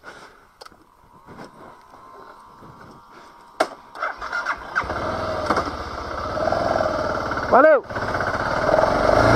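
A motorcycle engine starts up after a short exchange of speech, then idles and revs, with one sharp rising-and-falling rev burst, running loud and close through the latter half of the clip.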